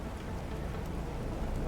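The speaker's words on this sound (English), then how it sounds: "Oh, now it's gonna show me the rain." Steady rain from the video game The Planet Crafter hisses as a dense, even wash of droplets, continuous and moderately loud without any voice over it.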